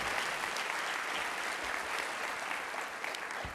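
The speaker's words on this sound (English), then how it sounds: "So give yourselves a round of applause for that." A keynote audience at an educator symposium claps throughout, a dense, even wash of many hands heard from some distance at moderate volume, with no speech over it.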